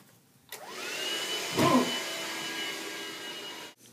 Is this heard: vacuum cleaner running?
yes